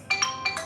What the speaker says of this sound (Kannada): ಸೇಮ್ ರಿಂಗ್ ಮುಖ್ಯ ಮೊಬೈಲ್ ರಿಂಗ್ ಆಗುತ್ತೆ ಈಗ ಅಷ್ಟೇ.